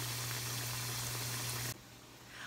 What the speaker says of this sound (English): We are sizzling away.